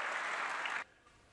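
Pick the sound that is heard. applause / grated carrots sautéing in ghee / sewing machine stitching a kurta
applause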